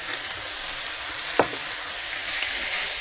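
Shrimp fry in a pan seasoned with salt and pepper, giving a steady close sizzle with one brief sharp crackle and no talking.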